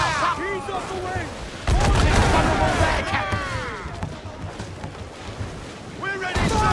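Ship cannons firing in Assassin's Creed 4 Black Flag, a heavy booming volley at sea mixed with ocean noise, shouted crew voices and music.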